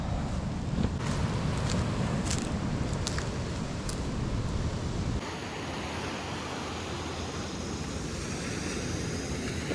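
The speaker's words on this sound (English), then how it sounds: "Wind has died down a little bit, which is nice." Steady wind at a shoreline on St. Croix in the US Virgin Islands, a continuous broadband rush mixed with surf, with a few brief gusty buffets early and a smoother, quieter wash later.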